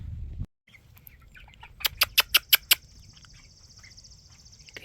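Chickens in a freshly cleaned coop: a quick run of about six sharp, rhythmic clucks or squawks, with soft scattered bird calls and a faint steady background hiss.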